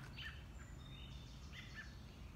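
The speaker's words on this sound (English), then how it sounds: "we're both out here listening to the birds." Birds chirp and sing outdoors in the morning, a few short bright calls repeating over a quiet, soft background hush.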